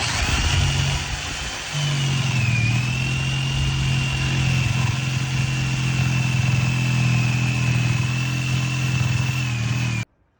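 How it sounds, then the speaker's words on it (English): A jigsaw cuts a Petsafe wall-entry pet door opening along a traced line in a wall, giving a loud, steady motor buzz that runs without a break and then stops abruptly. "I'm just going to cut this with a jigsaw right on that line"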